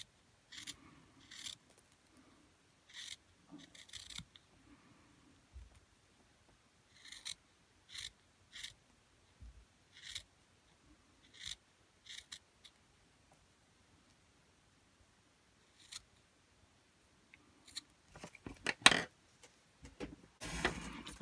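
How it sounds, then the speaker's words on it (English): Scissors snip through knit glove fabric, cutting a V shape, in a series of short crisp cuts spaced a second or two apart, with a quicker flurry of snipping and handling near the end; no talking. "I'm going to cut out the V in the middle."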